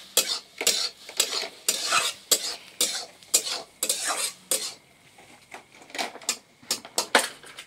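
Egg and rice stir-fried together in a pan, with rhythmic scraping strokes of a spatula against the metal and a light sizzle underneath, repeating close up at a steady pace.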